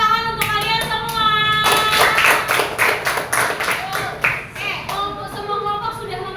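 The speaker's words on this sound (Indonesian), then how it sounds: "Tepuk tangan untuk kalian semua." Schoolchildren in an Indonesian elementary classroom clap together in quick rhythmic bursts, loud and close, mixed with a teacher's voice and chatter between the claps.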